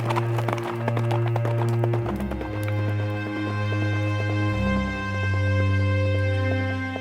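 Horse hooves clip-clop in a steady rhythm over sustained low droning music, the hoofbeats fairly close and even.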